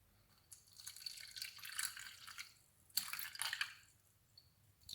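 Water is poured from a vessel into a container in two short splashing bursts with quiet gaps, close by, while a home chemistry indicator experiment is demonstrated.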